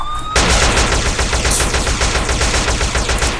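Rapid automatic gunfire from the video game GTA, a loud sustained burst of machine-gun shots starting abruptly after a brief quiet tone and continuing throughout.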